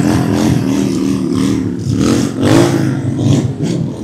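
A motorcycle revs at a car show in Jaffna, Sri Lanka. The engine note is loud and close, rising and falling in steady surges with a faint clatter beneath it.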